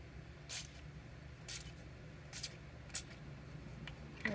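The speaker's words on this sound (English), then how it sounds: "I'm just going to hold my spritzer high up and spray" Four short, hissing spritzes of water from a spray bottle onto watercolor paints, spaced about a second apart, quiet and close against a faint low background hum.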